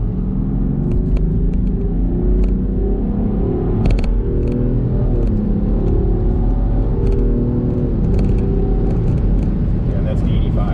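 A 2023 Land Rover Defender 110 P400 X-Dynamic SE accelerating hard, heard from inside the cabin as a steady, loud engine rumble and road roar that builds through the gears, with brief talk over it.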